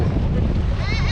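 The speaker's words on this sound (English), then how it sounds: "the waves are strong." Strong sea waves surge around a floating bridge at Muzhappilangad drive-in beach in Kerala, a loud continuous wash of water with heavy wind buffeting the microphone throughout.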